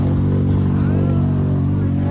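A motorcycle rides over rough off-road ground, its engine droning loud and close with a steady low throb and harmonic whine, and wind buffeting mixed in throughout.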